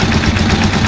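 A motorcycle engine idles right after an oil change with fresh tested oil, giving a loud, close, continuous rumble with rapid even pulsing and no misfires.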